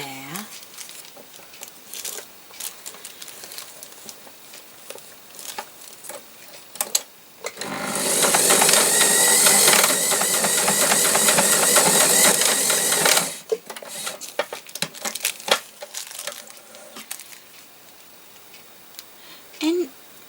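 A sewing machine stitches lace onto a fabric book page in one loud, steady run of about six seconds. Quieter ticking, handling and crinkling sounds come before and after it.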